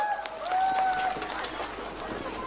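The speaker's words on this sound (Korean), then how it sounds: "박수 부탁드리겠습니다" A crowd at an outdoor Korean presidential campaign rally in Cheonan claps in brief, scattered applause, moderately loud, with a faint tone and some murmured voices mixed in.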